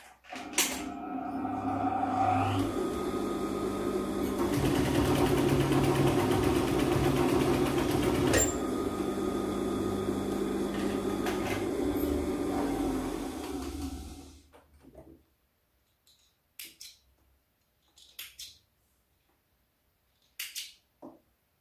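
A sewing machine runs a continuous stitch along a pocket seam for about fourteen seconds with a steady motor hum and rapid needle clatter, then stops, leaving a few short handling clicks and rustles.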